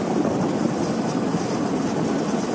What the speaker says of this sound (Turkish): bölgeye ambulans helikopter görevlendirildi